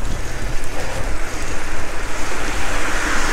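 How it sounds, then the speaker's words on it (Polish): Loud, gusty wind buffets the microphone, a continuous rumbling roar that surges and dips without any voices. "wieje zajebisty wiatr w pysk"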